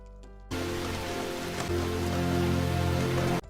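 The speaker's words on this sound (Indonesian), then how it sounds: "Sementara hujan deras terjadi di pantai" Heavy rain pours down on a beach, a dense, loud, steady hiss of drops striking sand and surfaces that starts abruptly and continues without break.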